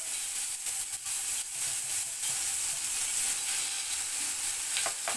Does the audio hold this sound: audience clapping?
no